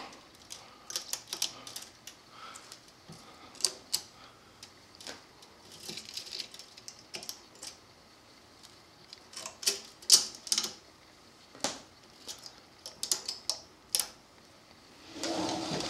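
Locking tuners on a hollowbody guitar are loosened and the strings pulled off, producing scattered close metallic clicks, taps and light rattles at irregular intervals over quiet room noise, with no talk.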